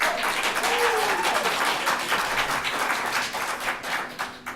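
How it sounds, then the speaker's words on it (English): An audience at a school board meeting claps steadily, many hands together in a sustained round that fades slightly toward the end, with a brief voice heard underneath. "You guys too, if we keep clapping, we're staying longer."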